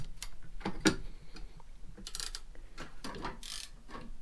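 A 3/8 extension turning the spare tire lowering mechanism under a Toyota, giving close, irregular ratcheting clicks and metallic ticks with a few louder clanks over a faint background.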